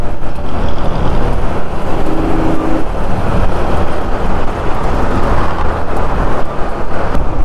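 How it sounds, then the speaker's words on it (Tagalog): Heavy road traffic in a jam makes a loud, constant rumble of engines and tyres, with no clear pauses and no talk. "Grabe traffic dun, ah."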